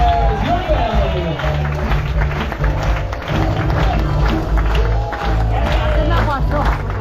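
Passengers applaud the crew aboard a Viking cruise ship on a European trip, steady clapping across the whole stretch with crowd murmur and music underneath.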